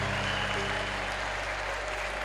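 Steady, dense applause from a church congregation during a sermon, a continuous wash of many hands clapping that fills the room without pause.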